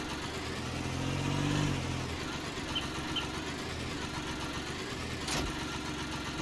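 Engine of a Case IH 235 lawn tractor in Farming Simulator 19, a steady mid-pitched idle that swells into a brief louder roar, then settles back to a constant drone, with no voices.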